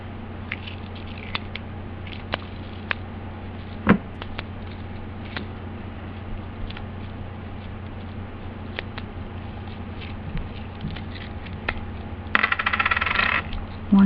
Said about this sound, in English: What do you think of these coin sounds?